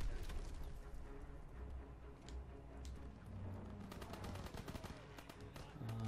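Gunfire in the WWII shooter Call of Duty: WWII during a campaign firefight. Quick, fairly faint shots crackle and rattle in uneven bursts throughout, as if from some distance away.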